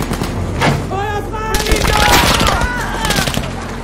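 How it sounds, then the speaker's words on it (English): Gunfire in the video game Battlefield V, rapid shots crackling amid a dense battle mix with tonal music or sirens layered over it, loud and continuous. "Who the fuck is shooting?"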